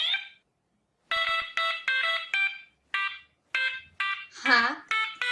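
A hacked fire alarm in the game Butterfly Soup beeps out a theme as a loud, bright chiptune melody of short stabbing notes with brief gaps between phrases.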